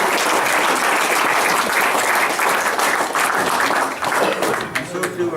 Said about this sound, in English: Another round of applause for Rob.